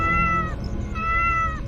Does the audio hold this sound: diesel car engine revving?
no